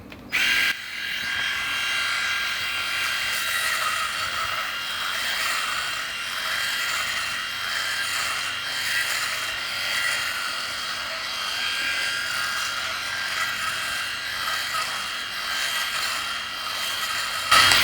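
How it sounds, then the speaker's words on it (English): A Remington electric shaver buzzes steadily and close up, running continuously with a slight rough texture as it cuts through long hair, pulling at it. "When you've got quite long hair, this shaver pulls hairs."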